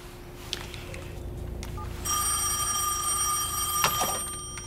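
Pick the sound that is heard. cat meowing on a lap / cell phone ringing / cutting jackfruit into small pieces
cell phone ringing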